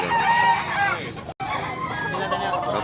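A Blackwell gamecock crows close and loud through most of the moment, one long call broken by a brief gap, with voices and yard noise running underneath.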